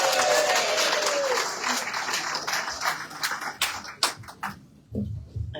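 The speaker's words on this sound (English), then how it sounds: "I like the applause" Audience applause at a live talk-show event at a Pride Center, a full, steady burst of clapping from a crowd that thins out into scattered claps near the end.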